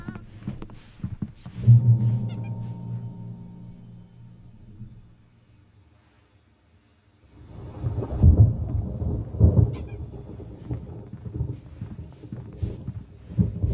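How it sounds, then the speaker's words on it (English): Thunder rolls during a storm in the video game Alan Wake Remastered: a long deep rumble, a quiet gap, then a second heavier crash and rumble with rain-like texture beneath. "There's a storm coming. Oh, what a storm."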